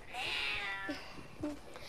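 A cat meows several times in short, quiet, separate calls, faint and close, in a hushed room.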